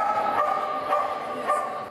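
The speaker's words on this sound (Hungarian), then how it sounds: "A hétvégén ismét kutyaugatástól volt hangos a Gyulai Sportcsarnok." Dogs bark at an agility competition inside a sports hall in Gyula. Several sharp barks come at spaced intervals and echo off the large indoor room, with a faint hum of the crowd behind them.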